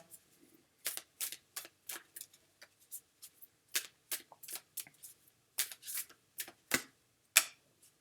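Tarot cards are shuffled and drawn in a quiet room, producing a steady string of crisp, faint snaps and flicks, each card contact short and distinct, with irregular rhythm and no voices.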